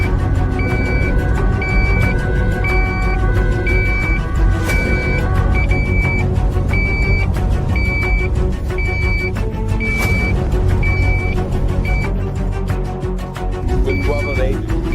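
Steady engine and road noise inside a police car driving during a high-speed motorcycle chase, with a repeating electronic beep and voices talking throughout.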